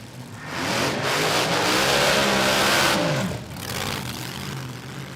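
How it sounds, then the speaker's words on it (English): A drag racing car at Willowbank Raceway fires up and revs hard, a loud, sustained engine roar that swells, holds and then drops back to a rumble. "You can just hear that the Fiona Reid Drags has been fired"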